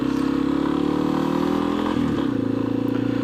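A 2015 Yamaha XT 250 motorcycle pulls away through its low gears. The engine drones loud and close with a steady pulsing beat, then dips in pitch briefly at a gear change before climbing again.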